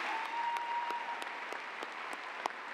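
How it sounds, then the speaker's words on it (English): Audience applause at a university winter commencement ceremony, steady clapping from a large crowd in a hall, moderately loud and continuous with a few sharper individual claps standing out. "Let's give these individuals a round of applause."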